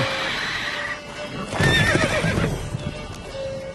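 A horse in Witcher 3 gives a loud, close neigh with wavering whinny tones as hooves clip-clop steadily beneath it, set against an ongoing game ambience.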